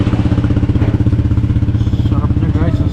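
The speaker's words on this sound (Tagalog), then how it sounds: "Kailangan maingat ka lang guys kasi yung mga motor ang tutulin nila pag dumadaan." Motorbikes pass along a busy street in Hanoi, their steady engine drone loud and close and continuing throughout, with people talking over the traffic noise.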